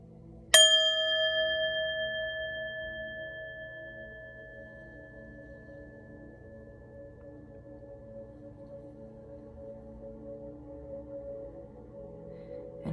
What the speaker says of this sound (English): we're going to ring the bell, Pisces,